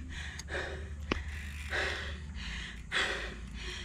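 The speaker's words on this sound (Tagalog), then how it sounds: "Nakatigil na, hindi pa mawala yung hingal." Heavy, rhythmic panting from a person catching their breath after a climb at Locloc, San Luis, with breathy gasps repeating every second or so, close to the microphone over steady outdoor noise.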